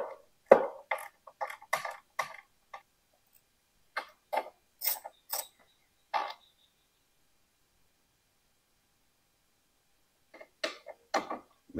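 An 8mm socket wrench loosening mirror bolts on a Honda Goldwing motorcycle, giving short clicking ratchet bursts in quick clusters, close and distinct, then a long quiet pause before a final run of clicks.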